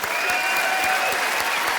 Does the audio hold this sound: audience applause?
yes